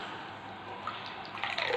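Water splashes and trickles into a pot while Maggi noodles are being prepared, a short, soft, continuous pour that grows slightly louder toward the end.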